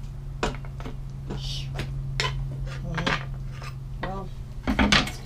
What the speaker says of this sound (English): I'm going to add my ham that I've chopped